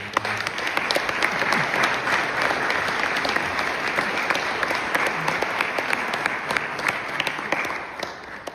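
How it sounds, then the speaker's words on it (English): A crowd at a historical society heritage gala applauds a veteran, steady and fairly loud clapping from many people that holds evenly for over eight seconds without speech. "So I'd like to give him a little round of applause."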